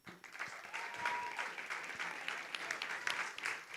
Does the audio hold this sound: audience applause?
yes